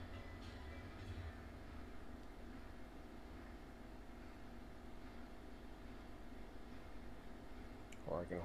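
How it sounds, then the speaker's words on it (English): A train arriving in the railroad game Railroads Online, a faint steady rolling rumble with a continuous low drone throughout, and a brief brighter squeal near the end. "Bring the train in."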